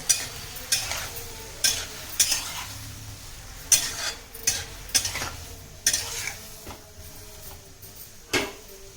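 Eggplant pieces get stirred in a frying pan, with a low steady sizzle beneath a series of sharp, irregular spatula clinks and scrapes against the metal, close up and without speech.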